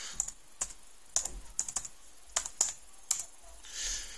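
Keys on a computer keyboard tapped out in short bursts while entering a password, about ten crisp separate clicks with brief pauses, close and fairly quiet, with no talking.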